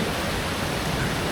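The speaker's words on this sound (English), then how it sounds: "this trip is in rain" Rain falling steadily during a hike, a dense even hiss with no breaks, close and moderately loud, no voices.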